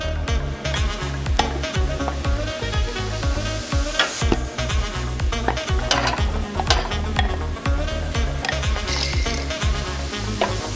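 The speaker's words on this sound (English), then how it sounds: "Add your mashed potato." Minced beef and mashed potato are stirred together for beef cutlets, a busy run of scraping, thumping mixing strokes that continues loud and close without pause.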